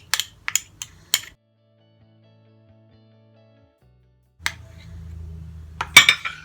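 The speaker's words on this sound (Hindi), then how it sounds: "ये सब चीजें डाल के हम इसे अच्छा सा मिक्स करेंगे।" A spoon clinks against a small bowl while turmeric, lemon juice and honey are stirred into a paste, a few quick metallic taps, a long pause, then scraping and more clinks.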